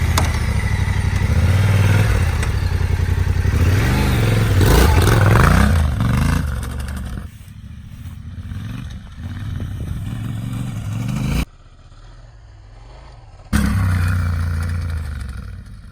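Yamaha Tenere 700 or KTM 790 adventure motorcycle engine revving hard off-road during jumps, loud rising and falling throttle blips with clattering, then dropping off briefly before roaring back.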